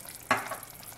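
Minced garlic dropped into a hot pan with beef and onion, bursting into a sudden loud sizzle that quickly settles into a softer frying hiss, with no voices.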